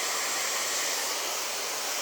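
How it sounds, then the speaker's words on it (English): Hair dryer set to fully cool blows a steady, loud broadband whoosh without variation, a continuous airflow rush close to the listener with no talking. "Just put my hairdryer on completely cool now"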